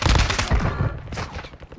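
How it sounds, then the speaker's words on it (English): Rapid gunfire in the video game Call of Duty Warzone 2, a dense burst of loud, close shots in quick succession that tapers into scattered, more distant reports. "I hear gunfire."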